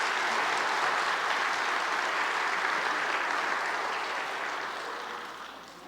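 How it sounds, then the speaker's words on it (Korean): Concert audience applause at a summer-night music and art concert, a dense, steady wash of many hands clapping close and loud, gradually thinning and fading toward the end with no voices over it. "한 번 더 우리 박수를."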